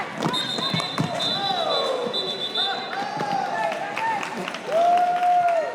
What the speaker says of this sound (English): Every player that crashes to the ground draws emphatic cheers